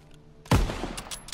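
A single sharp gunshot rings out in a Call of Duty: WW2 1v1 pit match, loud and close, with a short decaying tail in an otherwise quiet moment.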